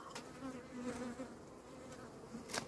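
Honey bees buzz steadily around a hive at an apiary, a dense, fairly close insect hum with a few sharper clicks and no talking.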